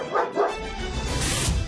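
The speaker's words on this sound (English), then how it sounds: "Oscar, the German Shepherd, is in a turf war with cat Cleo" A German Shepherd dog barks twice in quick succession, fairly close, followed by a noisy rustling stretch with a faint whine-like tone.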